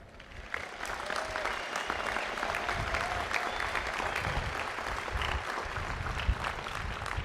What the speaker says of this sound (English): everyone stood up and gave you a round of applause